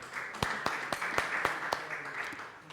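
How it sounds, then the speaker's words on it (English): Audience applause welcoming a guest speaker onto the stage at a football coaching talk, with sparse individual claps standing out over a thin, fairly quiet patter at moderate distance, lasting a few seconds without talk. "Give one round of applause for him."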